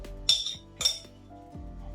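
A tablespoon clinks against dishes while traditional Caucasian khinkali dumplings are made at home: two bright metallic clinks close together, then a softer tap, near and fairly quiet with no talking.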